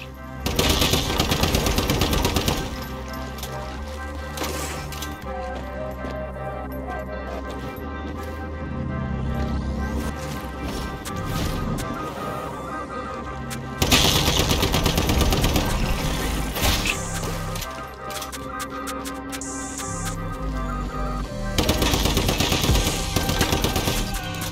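Gunfire in the video game Once Human, aimed at vines while fighting a Treant, comes as loud bursts of rapid automatic shots, broken by quieter stretches of game sound and music.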